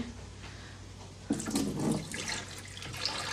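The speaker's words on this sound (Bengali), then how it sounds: "কয়েকবার মসুরের ডালটা ধুয়ে নিব, তারপরে সেদ্ধ বসাবো" Red lentils being rinsed in water, with splashing and sloshing that starts about a third of the way in and continues near the mic, over a steady low background hum.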